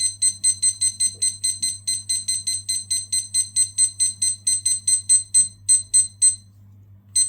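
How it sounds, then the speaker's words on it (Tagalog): A kitchen timer alarm set for 30 minutes while pork adobo is prepared beeps in rapid, regular bursts of chirps, loud and close, for about six seconds before stopping, with a low hum underneath. "Lagyan natin siya ng alarm na 30 minutes."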